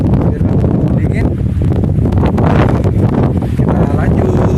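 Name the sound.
strong wind on a mountain summit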